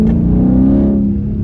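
A car engine fitted with a pedal box mod runs loud and close, holding a steady, throaty drone that swells slightly without sharp rev spikes.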